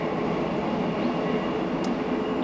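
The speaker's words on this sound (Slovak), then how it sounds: "Ide vlak." A train rumbles past near a reservoir carp-fishing spot, a steady, dense rolling roar with a faint high squeal, and no one speaking.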